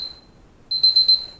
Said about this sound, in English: Timer done.